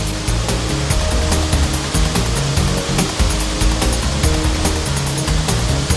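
The Krimml Waterfalls in Austria roar with a steady, dense wash of falling water, loud and continuous with a rumbling low end and faint background music, no voices.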